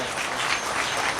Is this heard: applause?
yes